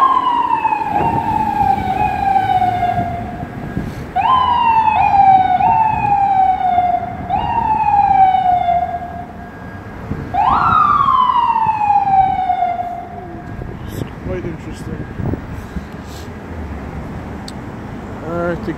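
An FDNY EMS ambulance siren wails nearby in repeated falling sweeps on Astoria Boulevard, Queens, New York, loud and close, cutting out after several cycles as traffic rumbles underneath.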